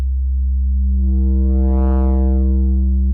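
A synthesized 808 bass runs through a 12 dB low-pass crunch filter, giving a loud, sustained deep tone whose gritty upper harmonics swell and fade as the filter sweeps, then cut off abruptly.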